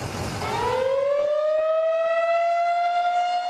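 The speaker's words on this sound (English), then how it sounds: "By the time you hear a tornado siren, you usually only have a few minutes to get to shelter." A tornado warning siren wails alone, its tone sweeping upward and then holding a long, steady howl that fills the space with no voices over it.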